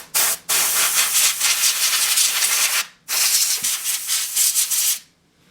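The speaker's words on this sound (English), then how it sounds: "Now I'm gonna blow this thing off one more time because I just sanded it" Two strong blasts of compressed air blow dust off a freshly sanded copper shim for an HP laptop, loud close hissing that runs about two and a half seconds each, separated by a short gap.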